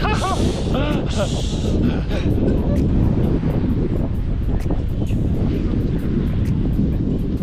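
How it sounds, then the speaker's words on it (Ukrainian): Heavy wind buffets the microphone in a constant loud rumble, while a person talks briefly near the start, partly buried under the gusts. "Тут, напевно, нічого не чути, бо дуже сильний вітер"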